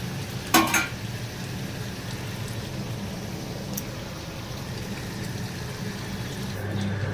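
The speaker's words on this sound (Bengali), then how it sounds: "আলুগুলো দিয়ে এর সাথে একেবারে সাঁতলে নেব" Potatoes and green chillies sauté with chicken masala in a pan, making a steady low sizzle and bubbling, with one sharp stirring clatter early on; no voices.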